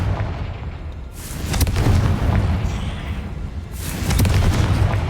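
A Confringo spell explosion in the video game Hogwarts Legacy: two heavy booming blasts with a rumbling low roar and crackling debris, loud and full, separated by a short lull.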